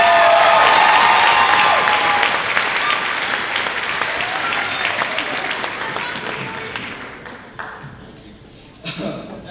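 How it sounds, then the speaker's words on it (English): An audience applauds at a school guitar concert, a dense, loud burst of clapping that slowly fades over several seconds, with some crowd noise and a voice at the end. "Can we get one more round of applause,"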